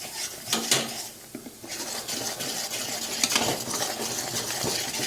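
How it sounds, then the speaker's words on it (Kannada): Someone stirs a thick Mysore pak mixture in a pan while hot oil is spooned in, making scraping, clinking stirring noises over a soft frying sizzle. No one speaks. "ಎಣ್ಣೆ ಹಾಕ್ತಾ ಹಾಕ್ತಾ ಈ ರೀತಿ ಮಿಕ್ಸ್ ಮಾಡ್ತಾನೆ ಇರಬೇಕು."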